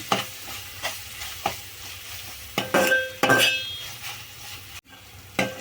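Crab pieces and onions fry in a pan, repeated stirring scrapes and clinks of a spoon against metal over a low sizzle, with bursts of louder spluttering in the middle.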